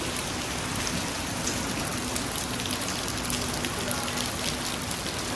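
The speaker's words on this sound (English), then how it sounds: "This right here is what you call some real extreme downpouring rain." Extreme downpour at Gwangjang Market, an outdoor market in Seoul: a dense, steady roar of heavy rain drumming on surfaces, continuous and enveloping without letup.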